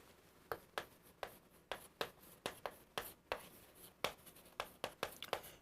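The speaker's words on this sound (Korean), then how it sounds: "글씨를 좀 잘 써볼게요." Chalk or marker writing on a classroom board during a lecture taps and scratches in quick, uneven strokes, a dozen or more crisp ticks following one another, close and fairly quiet, with no talking.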